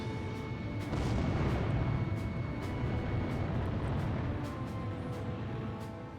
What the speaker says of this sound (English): Missile launched. I took a hit.